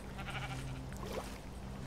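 A sheep in Minecraft Story Mode bleats in a short wavering call, close and fairly quiet over a low background hum.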